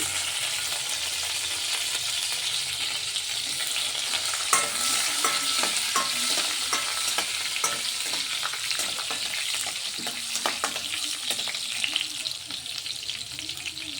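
Sliced green chilies frying in hot oil with tempering seeds for idli, a steady broadband sizzle and crackle with scattered pops and stirring scrapes, close and continuous with no talking.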